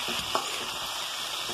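Sliced ivy gourd and potatoes fry in a pan with sesame, giving a steady close sizzle with a few light stirring scrapes.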